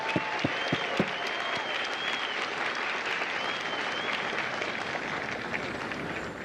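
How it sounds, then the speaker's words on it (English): A crowd claps and cheers for the Marine drill instructors at a Fox Company recruit graduation at MCRD San Diego. The applause is loud and sustained, with a few sharp claps standing out at the start. "Ladies and gentlemen, a round of applause for the Marines that make Marines,"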